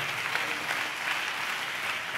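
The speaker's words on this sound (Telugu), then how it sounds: "చప్పట్లు కొడుతూ స్తోత్రాలు చెప్తా." A church congregation claps together while praising, producing a loud, dense and steady wall of applause that holds at an even level throughout, with no voices standing out.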